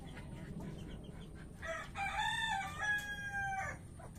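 A chicken crows loudly in a backyard coop, one long drawn-out cock-a-doodle-doo that rises and holds for about two seconds, with faint clucking and ambient noise around it.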